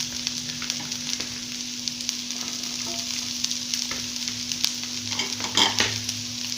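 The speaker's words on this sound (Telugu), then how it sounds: "ఆనియన్స్, క్యారెట్ కొంచెం ఫ్రై అయిపోయింది. తర్వాత నేను క్యాప్సికమ్ వేసుకున్నా." Onions, carrot and capsicum fry in a pan with a steady close sizzle and occasional stirring clicks and scrapes over a low background hum, with no talk.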